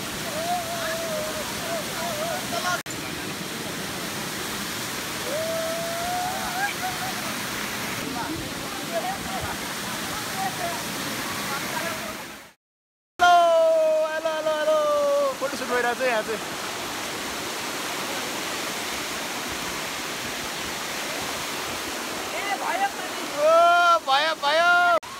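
Tindhare Jharna waterfall rushes in a continuous loud roar throughout, with a brief break midway, while people talk and call out over the water.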